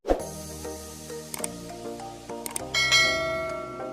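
A bright notification bell chime rings out several times in short succession, its struck tones ringing and layering with a sustained shimmer, loud and close with no talking.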